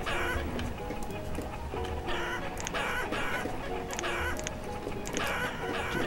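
Chickens cluck in a farm area of the town-building video game Banished, repeated soft clucks and scratchy bird calls over a steady game ambience at a moderate distance.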